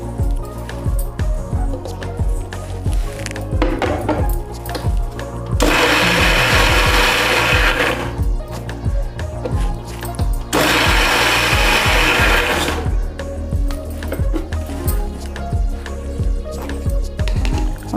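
An electric mixer grinder coarsely blends tomatoes for rasam, roaring loudly in two separate bursts of a few seconds each, with quieter clattering and handling noises between the runs.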